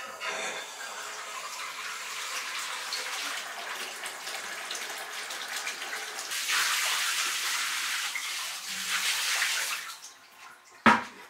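Water gushes steadily from a newly fitted bathtub as it drains, a continuous close hiss that swells louder near the end before a brief sharp knock.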